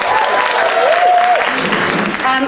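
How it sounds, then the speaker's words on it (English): A crowd at a charity lunch claps warmly and loudly for a speaker, with whoops and raised voices mixed into the steady applause. "big round of applause for Louise, everybody."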